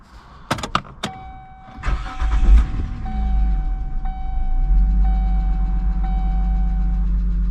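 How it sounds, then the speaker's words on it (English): A Kia's engine starts with sharp clicks, then revs up and settles into a loud, steady drone with a faint whine, close by and with no talk. "it's all disconnected, but the car still revs to the moon"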